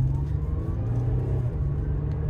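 A used car rolls along during a test drive on an auto auction lot, its engine giving a steady, close low hum and drone with no voices over it.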